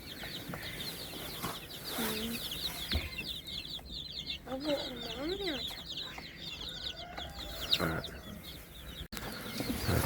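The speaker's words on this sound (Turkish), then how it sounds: "Burada da diğer normal tavuklarımız var." Many chickens on a quail farm cluck and chatter continuously nearby, with occasional louder squawks and a voice speaking briefly amid the flock.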